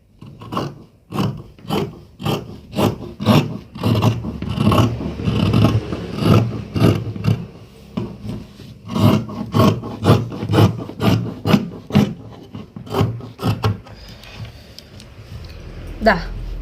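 Scissors cutting fabric for a 3/4 sleeve, a rapid series of close crisp snips that slow toward the end, with a voice talking over it.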